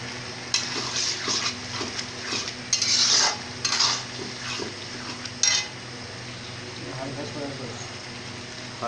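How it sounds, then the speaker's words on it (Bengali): Chili sauce goes into chicken frying in a pan, with steady sizzling and clinks of a utensil against the pan as it is stirred, while a voice talks over the cooking. "এবার দেওয়া হচ্ছে চিলি সস।"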